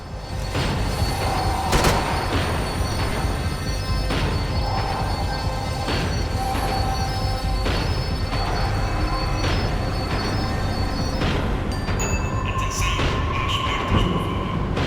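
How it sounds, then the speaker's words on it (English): A tram in Max Payne 3 rumbles and clatters as it slows, steady loud rail noise punctuated by metallic clanks and a brief wheel squeal near the end. "The tram was slowing down"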